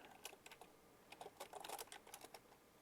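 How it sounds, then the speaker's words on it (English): Computer keyboard typing a short commit message, quick, light, close key clicks in irregular bursts, faint and with no talking. "make the commit message read completed task 2. So we'll type that in just as described"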